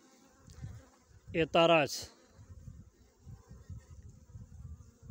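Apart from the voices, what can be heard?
honey bees buzzing around a hive during a split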